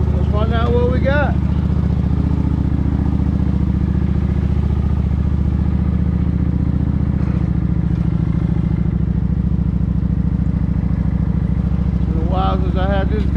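Motorcycle engine running steadily while riding, a loud continuous low drone with some clatter throughout, and someone talking over it at the start and near the end.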